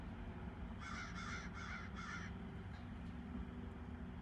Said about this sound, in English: I love those crows.